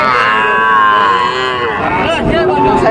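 A white local-breed female calf moos loudly and close at a cattle market, a long drawn-out bellow that wavers in pitch, followed by a second shorter call.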